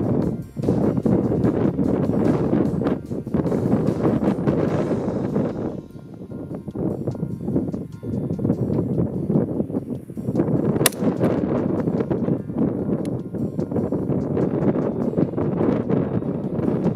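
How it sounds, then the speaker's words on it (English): Wind gusting hard across an outdoor shooting range at around 20 mph, a loud continuous roaring buffet of microphone wind noise that rises and dips over the whole stretch. "With the wind coming in from the 2 o'clock, I am hitting on the left edge still."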